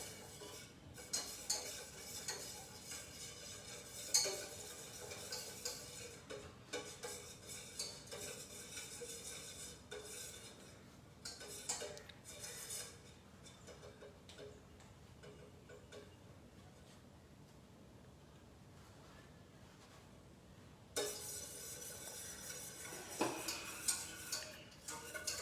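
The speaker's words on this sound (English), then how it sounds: "Now I'm going to stir up this also" A spoon stirs gelatin crystals in a bowl until they dissolve, making soft, steady scraping and clinking against the dish for a long stretch in a quiet home kitchen.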